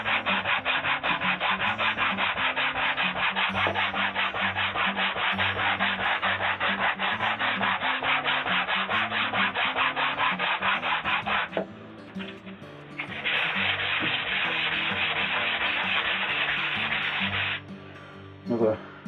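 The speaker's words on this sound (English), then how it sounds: "Okay, that's the first side sanded" Continuous, rapid back-and-forth rasping of sandpaper on a wooden guitar soundboard, close and steady, with a brief pause before the strokes resume; music plays underneath.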